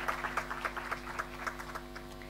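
Audience at an education seminar in Chile applauds to thank the Undersecretary of Early Childhood Education, a modest, fairly faint patter of scattered clapping over a steady hum.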